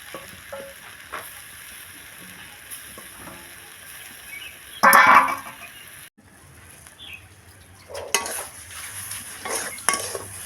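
Lentil paste with turmeric and salt is stirred in a kadai, with sizzling frying and intermittent metal scraping and clanks of the spatula against the pan, loud bursts around the middle, no voices.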